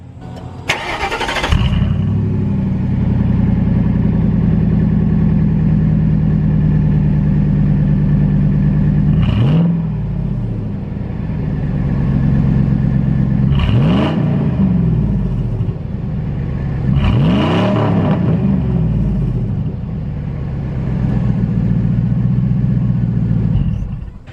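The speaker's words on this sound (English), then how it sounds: "So let's see what it sounds like straight piped." A 1998 Ford F-150 pickup's engine, straight-piped with the muffler cut off, idles with a deep, loud rumble, revved sharply three times in short bursts before settling back to a steady idle.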